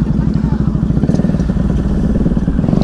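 An NS200 motorcycle with a worn tyre rumbles steadily up close, its engine note dense and continuous with a low, throbbing pulse and no break for the full stretch.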